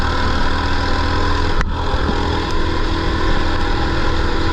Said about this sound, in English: Come on, mini bike, you got it!